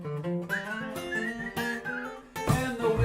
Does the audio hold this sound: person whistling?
yes